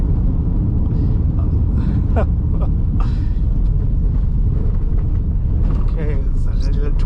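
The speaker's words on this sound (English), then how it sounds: "The road noise is expected because we're on gravel right now" Tyre and road rumble inside a 2023 Haval H6 GT 4WD driving on gravel, a steady low roar with faint crunching and rattles, continuous and fairly loud throughout.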